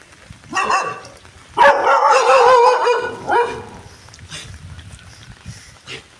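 Dogs barking nearby in a few short bursts, with one longer stretch of rapid, overlapping barks in the middle, then quieter background noise.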